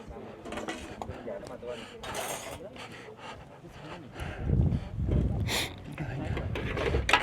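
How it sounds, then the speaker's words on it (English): Dishes being washed inside a cook tent at a high-altitude 8,000 m base camp: scattered clinks of pots, plates and cutlery, with sloshing and scraping that grows louder midway, under nearby talk. "Guys doing the dishes."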